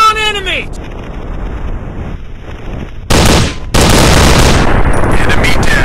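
Gunfire in a commando shooting game on a Dustown level, with dense bursts of shots that cut in loudly after a quieter stretch and keep going over a whooshing backdrop, while a voice calls out briefly at the start.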